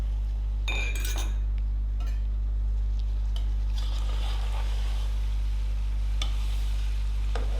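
Spices and yogurt stirred and fried in a pot for Kabuli pulao: a low sizzle under repeated metal spoon clinks against the vessel, with a steady low hum in the background.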